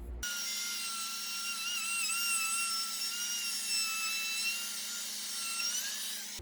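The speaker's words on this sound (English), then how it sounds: "I'm using a 1/2 inch pattern routing bit." A router fitted with a 1/2 inch pattern routing bit cuts wood for a cornhole board, giving a steady, loud high-pitched whine with a constant tone, running continuously and alone without pause.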